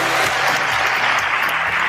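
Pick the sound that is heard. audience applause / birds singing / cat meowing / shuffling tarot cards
audience applause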